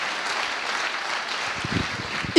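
Audience at a Sarthe business innovation awards ceremony applauds the event's partners, a moderate, even patter of clapping that continues throughout, with a few low thumps near the end.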